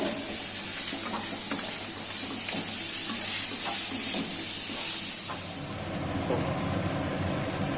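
Chicken liver pieces frying in a pan with spices make a steady, fairly loud hissing sizzle, with occasional soft stirring scrapes, heard up close and alone.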